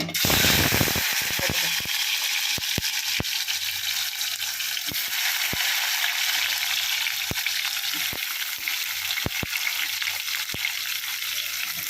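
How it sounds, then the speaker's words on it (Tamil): Onion, tomato and dried red chilies sauté in hot oil with a loud, constant sizzle. Sharp, irregular clicks and scrapes from stirring cut through it from start to end. "வெங்காயம், தக்காளி, காஞ்ச மிளகாய், எண்ணெயை போட்டு நம்ம வதக்குறோம்."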